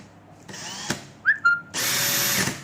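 A Makita DHP484 cordless drill whirs up briefly, gives a couple of short clacking chirps from its gears, then revs steadily at high speed, close by.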